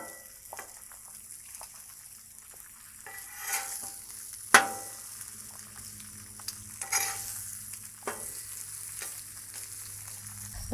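Eggs fry on a Blackstone griddle just after being flipped, giving a soft steady sizzle with a few scraping spatula clicks and one sharper knock, close and fairly quiet with no talk.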